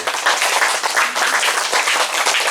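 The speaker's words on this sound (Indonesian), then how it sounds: "Mari kita tepuk tangan untuk beliau." Steady applause from a church congregation honouring a new regional leader, many hands clapping densely and continuously at close range with no talk over it.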